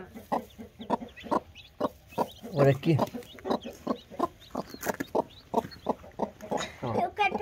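A hen clucks repeatedly in short bursts beside newly hatched chicks, close and fairly loud, while a person talks over the calls.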